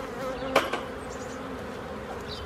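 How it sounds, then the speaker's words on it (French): Buckfast honey bees buzz busily at a hive in a village apiary, a dense steady hum close to the ear, punctuated near the start by a couple of sharp clicks. "les abeilles qui piquent comme ça, je supporte pas trop"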